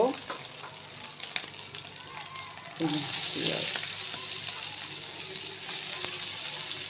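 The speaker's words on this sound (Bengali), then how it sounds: "আর দিব হইল রসুন তো এগুলো আমি একটু ভেজে নিব" Garlic frying in hot oil in a pan where shrimp have already been fried, a steady close sizzle that swells louder partway through, with stirring and clinking of utensils.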